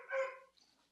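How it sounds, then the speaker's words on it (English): A puppy gives one brief, faint bark in the background of a home, followed by a softer trailing sound. No one is talking. "if the dog barking bothers anybody, I can mute when he does bark."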